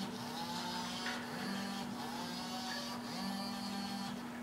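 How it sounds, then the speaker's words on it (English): OWI 535 robotic arm shoulder motor whirring under Arduino and Wii-nunchuk control, a faint steady electric hum with small shifts in pitch as the arm moves. "Now with the C button, I move or I control the shoulder motor."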